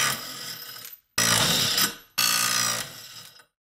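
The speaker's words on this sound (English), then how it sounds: "today we're gonna test out three different cordless battery operated impact wrenches" Three cordless battery-powered 3/8-inch drive impact wrenches are run in a breakaway torque test, giving three roughly one-second bursts of loud rattling hammering, each ending abruptly, separated by short silences.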